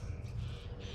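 A baby bird fallen from its nest calls in a short, harsh, raspy burst while being hand-fed, faint and close.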